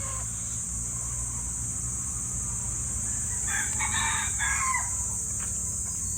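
Black Gilmore gamefowl roosters at a farm crowing with a few clucks, the calls rising in the middle of a steady noisy background with a faint car hum.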